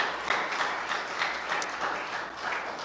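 A church congregation applauds during a Sunday general service, steady continuous clapping filling the room at moderate loudness with a faint murmur of voices underneath.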